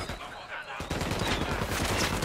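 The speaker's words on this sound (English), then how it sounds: "I'm shooting these fuckers." Rapid bursts of gunfire in the video game Ghost Recon Wildlands, a dense crackle of automatic shots that starts abruptly and keeps going loud and close, with voices mixed underneath.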